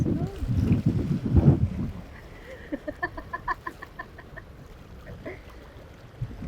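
Strong wind buffets the microphone in loud rumbling gusts at a seafront in Anilao, Batangas, then eases as a bird clucks several times nearby.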